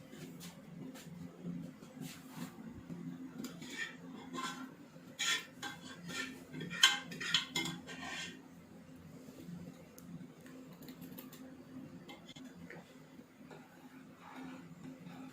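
A spoon stirs chicken haleem in a pot: faint, irregular scraping and metallic clinks over a quiet low hum, bunched in the middle of the stretch.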